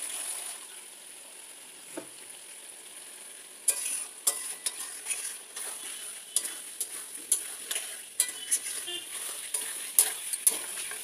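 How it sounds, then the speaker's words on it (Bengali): Potatoes are stir-fried with spices in hot oil for a vegetarian aloo dum: a soft, steady sizzle runs underneath, then repeated scraping and clattering stirs come in a loose rhythm from close by. "মশলার সাথে আলুটাকে একটু ভালো করে কষিয়ে নেবো"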